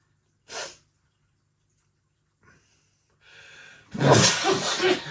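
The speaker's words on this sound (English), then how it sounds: "I tried so hard to hold that sneezing." A single loud sneeze bursts out near the end after a brief stifled snort and sharp breaths, close to the microphone, at a beer tasting.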